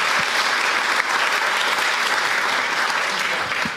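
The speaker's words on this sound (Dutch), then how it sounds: "Geef hem een applaus" A studio audience gives a guest a loud, sustained round of dense applause, steady throughout.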